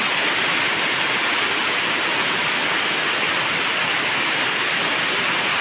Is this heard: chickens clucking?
no